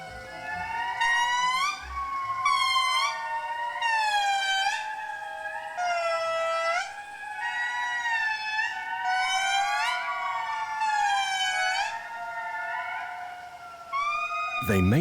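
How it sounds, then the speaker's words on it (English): Eerie wailing calls of indri lemurs rise and fall in long sliding howls, several voices overlapping in a loud chorus for a sustained stretch. "Every morning, the Indri gather to make these distinctive calls."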